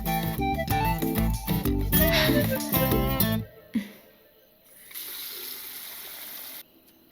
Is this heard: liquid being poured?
yes